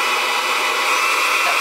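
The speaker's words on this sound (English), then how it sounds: "it is the most powerful hairdryer" A hair dryer blows at full power on medium heat, drawing about 1,066 watts from an AFERIY 2400W power station, a loud, steady whooshing roar held close to the microphone with no pauses.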